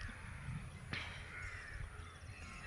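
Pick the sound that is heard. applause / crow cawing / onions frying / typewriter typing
crow cawing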